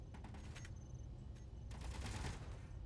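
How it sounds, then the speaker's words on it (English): Rapid bursts of automated turret gunfire hammer a base in the Space Engineers video game, dense clustered shots at low level with brief pauses between volleys. "my turrets are shooting the base, or try to hit me at least"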